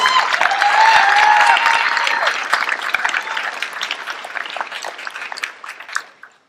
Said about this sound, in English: Give this lady a big round of applause